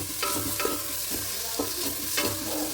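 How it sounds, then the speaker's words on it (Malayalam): Ginger and garlic paste fries in masala for biryani: a constant crackling sizzle broken by several sharp clinks and scrapes of a spoon stirring the pan. "പിന്നെ ഇനി ഞാനിടുന്നത് ഇഞ്ചി പേസ്റ്റും വെളുത്തുള്ളി പേസ്റ്റും കൂടി ആക്കിയിട്ടോ"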